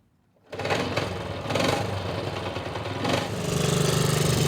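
A 1963 Honda Sport 50 C110 motorcycle engine starts after a brief silence and runs steadily with a buzzy, close idle, revving up slightly a few times before settling into a fast, even drone.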